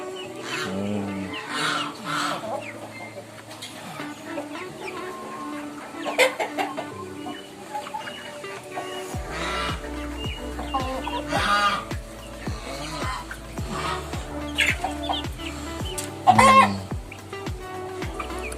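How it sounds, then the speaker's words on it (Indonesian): Pama, Koy and Mangon breed chickens in a farm coop cluck repeatedly up close, with scattered louder squawks and a crow-like call, and no talking. "Ini ayam-ayam dari Mas Dwi, materinya di ternakan Dwi Mbogem Farm DBF."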